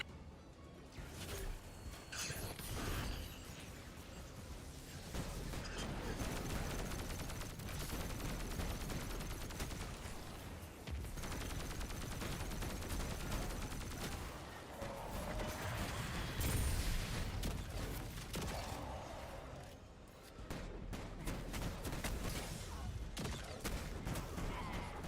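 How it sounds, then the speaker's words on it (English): Dense, sustained game gunfire from Destiny, with rapid bursts and repeated shots layered over a busy mechanical mix, staying loud and continuous throughout. "Brother just kept shooting."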